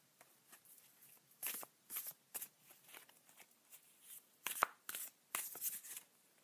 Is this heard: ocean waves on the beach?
no